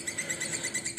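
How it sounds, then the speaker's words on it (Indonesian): A recorded lovebird ngekek song plays back from an MP3: rapid, high, repeated chirps in a fast rhythmic trill that stays loud and continuous throughout. "Ini saya pakai materi lovebird ngekek bos."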